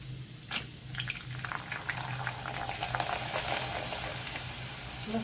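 Oil heats in a pan before rice papads are fried, giving a faint continuous bubbling and simmering hiss with a low hum beneath, steady and without speech.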